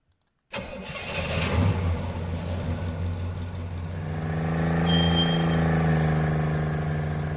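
Game-engine car audio built in Unreal MetaSound: after brief silence an engine cranks and catches, settles into an idle, then rises into a louder, steadier rev, with no talk.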